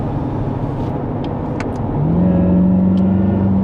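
A 2025 Chevrolet Corvette C8 Z06 on track at Circuit Zolder, heard from inside the cabin with the small roof panel open: a steady loud engine drone that rises in pitch as it revs and accelerates.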